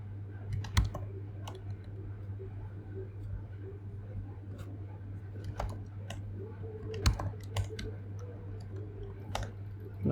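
Sparse keystrokes and clicks as code is typed on a computer keyboard, light irregular taps under a steady low hum, with a voice talking at points.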